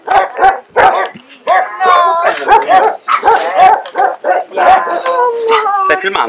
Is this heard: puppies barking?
yes